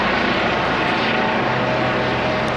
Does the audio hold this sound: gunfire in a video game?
no